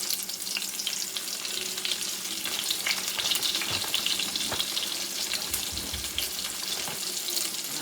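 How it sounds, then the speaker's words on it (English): Breaded chicken sizzles and crackles steadily in a hot skillet of frying oil, a dense close hiss that runs throughout with scattered pops and light clinks, no voices. "You hear that sizzling?"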